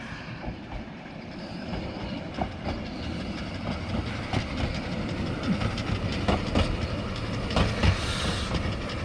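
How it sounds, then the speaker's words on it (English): A small 'coffee pot' steam train runs on rails in Australia, drawing steadily nearer with continuous rumbling and rhythmic clickety-clack of wheels, rising slightly in loudness toward the end, with no voices. "It's the smallest train they've got."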